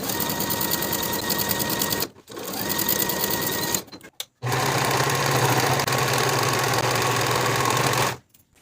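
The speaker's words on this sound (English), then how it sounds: "Then we'll sew the side seams and the inseams with a 3/8 inch seam allowance" Sewing machine running along the side seams and inseams of pull-on pants, close and loud in long continuous bursts with brief pauses between passes.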